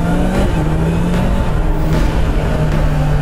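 A Honda motorcycle with E-clutch pulls away under throttle, its engine giving a steady, close, buzzing drone with slight rises in pitch and rushing wind noise.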